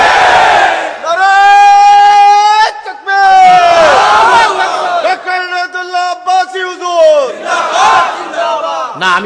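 A large crowd at an Islamic gathering in Bangladesh chants slogans in unison, loud, sustained and rhythmic, with voices rising together in long harmonic calls, a brief pause, then further rounds of chanting.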